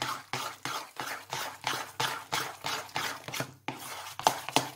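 Pastry cream being stirred into almond cream for a blueberry-vanilla galette des rois, heard as a close, steady series of rhythmic scraping and swishing strokes, about two per second, with no voices.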